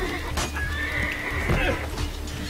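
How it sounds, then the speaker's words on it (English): A horse in the Assassin's Creed 2 video game gives one long, clear whinny over a steady game background, with hoof clops around it and no talking. "You killed my horse!"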